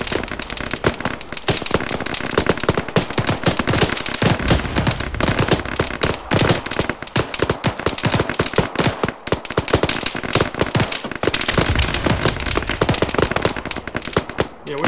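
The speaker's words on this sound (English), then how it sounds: "we're taking lots of fire north and east" Incoming gunfire in Arma 3, a continuous loud crackle of machine-gun bursts and rifle shots from several directions that hammers without pause for about fifteen seconds, close and dense, with no voices over it.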